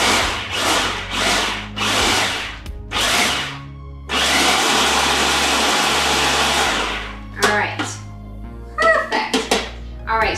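Food processor blades whir loudly as they chop pistachios and almonds fine, in several short pulses and then one long continuous run of about three seconds, with a voice talking between the bursts.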